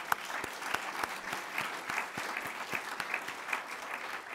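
Steady applause from a forum audience honouring a panel of experts, with many hands clapping at once and sharp individual claps standing out in an uneven rhythm, sustained at moderate loudness throughout.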